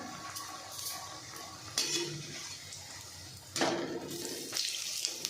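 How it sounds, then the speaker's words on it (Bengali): Bread pakora frying in hot oil in a home kitchen: a steady, close sizzling hiss with a few louder surges and faint utensil clinks, no one talking. "সেম প্রসেসে এটাকেও ভাজবো"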